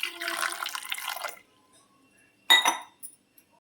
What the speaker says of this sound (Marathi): ह्याच्यामध्ये अर्धा ग्लास पाणी टाकायचं